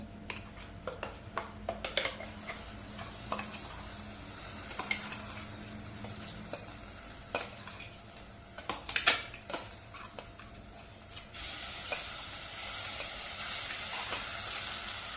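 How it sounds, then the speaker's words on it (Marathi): Masala paste with turmeric sautéing in oil in a pan, a steady sizzle broken by frequent spoon scrapes and clinks against the metal, with the frying growing louder and denser toward the end. "मसाल्याला तेल चांगलं सुटेपर्यंत मसाला परतवून घेतलाय"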